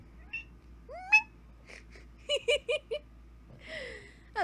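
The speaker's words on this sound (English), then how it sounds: "Cat!" A house cat meows several times nearby in short rising and falling calls, interspersed with brief bursts of human vocalizing or laughter between the meows.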